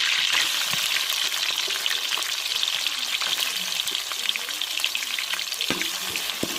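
Chopped onions and green chillies sauté in hot oil in a pan for a carrot beans masala rice, a steady close sizzle broken by occasional stirring clatters.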